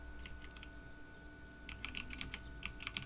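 Fingers type on a computer keyboard at a desk, producing quiet, uneven bursts of light clicks that grow busier toward the end over a low room hum.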